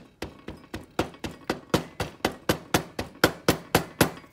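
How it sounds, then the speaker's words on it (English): A mandrel end hammers casting sand down into one side of a flask during ring sand casting, a steady run of about sixteen evenly spaced, close, solid thuds with no talk. "If you want, you can hammer it."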